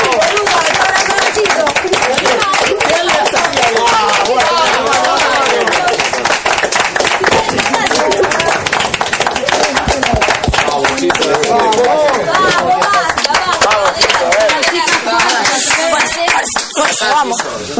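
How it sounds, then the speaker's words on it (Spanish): Audience clapping for a girl runs throughout, steady dense claps mixed with voices talking and calling out over it, close and loud. "Un aplauso para la chica"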